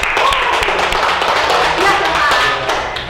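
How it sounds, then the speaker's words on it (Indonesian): A classroom of students applauds a group after its presentation in an Indonesian-language lesson, a dense, steady wash of clapping filling the whole clip with some chatter mixed underneath. "Tepuk tangan untuk kelompok 3."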